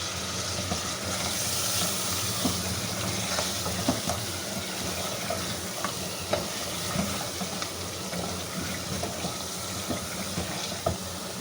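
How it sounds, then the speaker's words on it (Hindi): Water is poured into mutton curry sizzling in a cooking pot, raising a continuous, loud hiss and bubbling sizzle with occasional stirring clatters throughout, no voices over it. "अब इसमें ये पहला पानी डालेंगे हम।"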